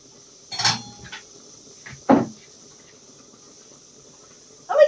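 Cooking pots being covered with lids in a kitchen, three separate sharp metallic clanks spaced a second or two apart, close and fairly loud over a quiet background with a faint insect-like whine.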